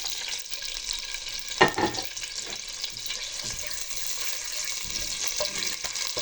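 Fried onions go into hot oil while cooking Shan mandi, giving a steady sizzle with a brief louder splash and stir early on, then continuous frying noise to the end.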